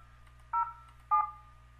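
Two short, crisp telephone dialing tones sound in the Icall app, evenly spaced about half a second apart over a faint steady hum, with no talking.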